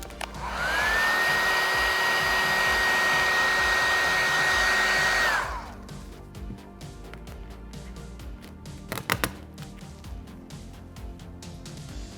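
A heat tool blows onto Cybertruck vinyl wrap with a loud, steady airy roar that spins up, holds for about five seconds and cuts off, followed by faint handling clicks.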